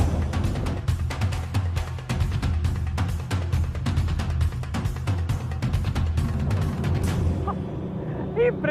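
A Cigarette 50 speedboat with 2700 HP of engines accelerates hard on open water, a loud continuous roar broken by rapid thumping slaps of the hull against waves.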